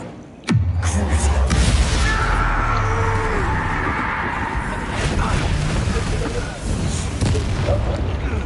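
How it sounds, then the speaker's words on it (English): A fire spell cast in a video game bursts with a sudden loud boom, then rolls into a deep, sustained roar lasting several seconds, with a voice talking over it. "Incendio!"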